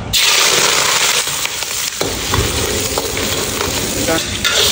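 Loud, steady sizzling of shrimp frying in hot oil, close up, with occasional clatter of stirring and no talking.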